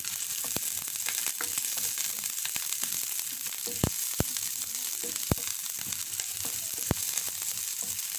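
Onions and garlic sauté in a pan, a bright continuous sizzle broken by sharp clicks and taps of a utensil against the pan, close and steady without talk.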